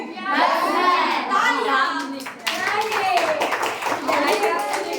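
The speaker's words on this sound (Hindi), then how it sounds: "आदित्य के लिए ताली भाई" A class of children claps together in a math classroom, bursts of close hand clapping mixed with kids' voices and chatter throughout.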